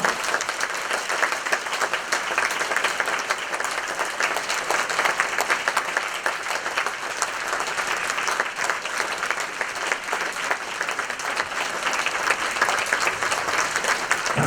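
Loud, sustained audience applause welcomes a dharma king and three guests onto the stage at a celebrity talk event, a dense, even wash of clapping lasting the whole stretch.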